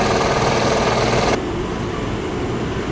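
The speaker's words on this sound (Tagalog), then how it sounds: "Simula tayo sa paglalagari." A loud, fast mechanical buzz of a power saw with a die cut maker blade runs steadily, then drops to a duller, lower grinding partway through.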